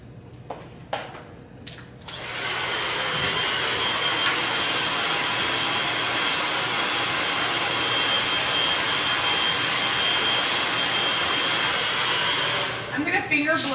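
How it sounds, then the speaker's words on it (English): A hair dryer switches on after a few faint clicks and blows loudly and steadily for about ten seconds while finger drying a woman's hair at the roots for lift, then cuts off abruptly. "I'm going to finger blow dry her"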